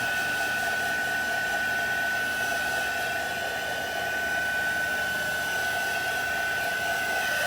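A hair dryer blows steadily on watercolor paper, a constant close whooshing roar with a fixed whine, unbroken and alone.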